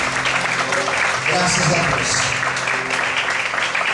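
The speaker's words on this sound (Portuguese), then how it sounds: "Você pode desocupar sua mão e aplaudir o Senhor nesta noite." A church congregation applauding the Lord during a Portuguese-language Easter sermon service, the dense clapping heard under a voice speaking and some background music, steady and fairly loud throughout.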